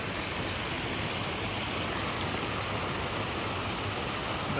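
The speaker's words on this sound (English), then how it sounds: "This is a box culvert where the water slowed down before it goes under Lakeshore Drive behind me." Water rushes steadily through a concrete box culvert in a drainage ditch just before passing under a road, a loud, constant broadband roar with no pauses.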